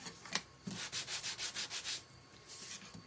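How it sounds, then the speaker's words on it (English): Sandpaper rubbing over the wings of a small wooden turkey figure, a quick series of about eight even, close, soft rasping strokes with a couple of lighter scuffs before and after. "sanding down"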